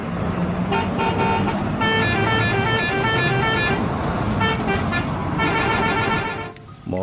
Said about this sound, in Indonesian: Lihat teman-teman, ada bus telolet.